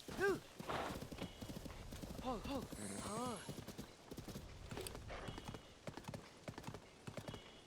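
Horse hooves clip-clop steadily in Zelda: Tears of the Kingdom, a rhythmic trot of repeated hoof strikes, with a horse's whinny near the start and game music and voices talking throughout.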